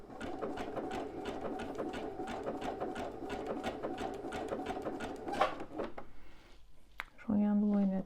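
A sewing machine runs a decorative stitch, a steady rapid mechanical chatter of needle strokes that stops near the end, followed by a brief click and a short tonal beep; a voice speaks faintly underneath.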